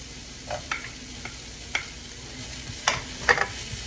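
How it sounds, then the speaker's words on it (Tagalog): Onion and garlic sautéing in a pan for sautéed mussels, a soft steady sizzle broken by scattered spoon scrapes and clinks, close with no talking. "Gisa-gisa lang natin siya."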